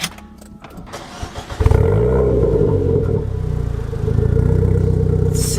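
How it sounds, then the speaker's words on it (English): A Renault Clio RS engine cranks briefly, catches and settles into a loud, steady idle up close, with a slight rise in revs later. "Let's start the engine first."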